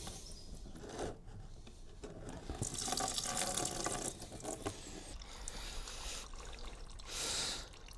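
Coolant running out of a Ducati Multistrada 1200 during a flush, a continuous close splashing trickle with a few louder gushes, no talking.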